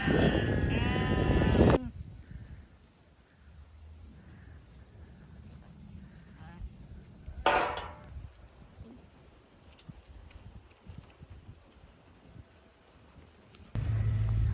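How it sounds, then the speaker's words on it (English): Lambs bleat as they are driven out onto fresh grass, with one loud bleat at the start and another partway through, set against soft outdoor wind and a quiet field. "we're just driving the lambs back up through some fresh grass, onto fresh grass"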